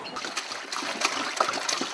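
Muddy, dirty water trickling and splattering from a household tap, a soft, faint, irregular dribble of small splashes with no talk.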